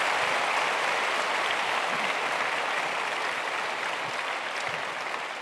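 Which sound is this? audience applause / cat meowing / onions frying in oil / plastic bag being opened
audience applause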